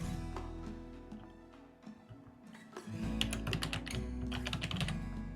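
Typing on a computer keyboard during a Rimworld game, a quiet run of quick uneven key taps that grows busier and denser toward the end, close and alone.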